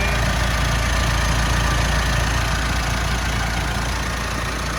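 A used car's engine idles steadily. The hum is close, even and continuous, with no talking.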